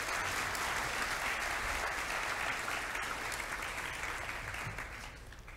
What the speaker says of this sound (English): A round of applause for 7E